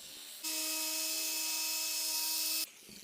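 A Torque X dual-action polisher fitted with an orange cutting pad spins steadily with C4 compound on car paint, a loud, continuous whine with a stable pitch that starts suddenly, holds for about two seconds and then cuts off.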